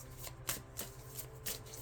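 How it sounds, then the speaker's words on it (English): Tarot cards are shuffled by hand in a quick run of soft riffling slaps and papery swishes, close and quiet, with a few sharper snaps over a low background hum. "I'm going to shuffle off camera because it is easier for me to."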